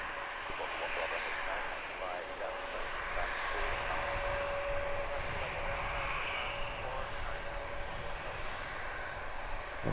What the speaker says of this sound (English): Number 2 to depart. Wizz Air off to Katowice.